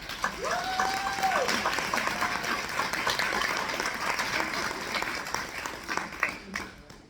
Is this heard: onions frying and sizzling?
no